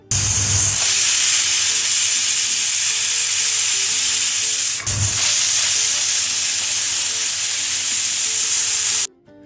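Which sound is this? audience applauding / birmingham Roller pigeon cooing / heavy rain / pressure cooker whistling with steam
pressure cooker whistling with steam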